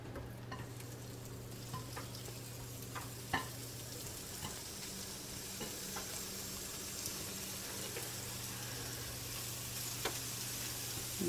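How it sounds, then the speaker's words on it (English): Meat cooks on a panini press with a quiet, even sizzle over a low steady hum, dotted with occasional faint clicks and taps. "I love this panini press. I honestly use it for meat more than I use it for sandwiches."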